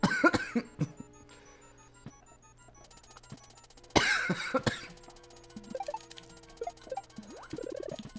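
A man lets out a harsh, loud cough roughly midway, with a few softer throaty sounds around it, over faint electronic game tones and beeps.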